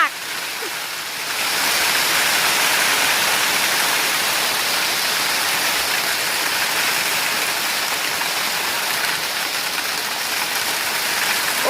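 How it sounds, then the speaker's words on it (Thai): A heavy hailstorm hammers down with rain, a dense, loud roar of pelting ice and water that swells after the first second and holds steady throughout. "อุ้ยนี่จ้าลูกเห็บลูกเห็บจ้า"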